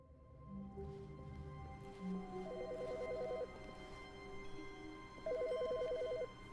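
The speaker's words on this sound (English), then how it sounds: "Wait, there's a phone ringing?" A telephone rings repeatedly in The Stanley Parable, with two bursts of an electronic, bell-like trill over a low ambient game hum and no voices.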